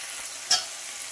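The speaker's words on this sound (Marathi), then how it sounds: "आणि छानपैकी फ्राय करून घेऊया।" Sambar base with homemade red chilli powder frying in a pan, a steady soft sizzle with one brief louder stir or scrape near the middle; no voices.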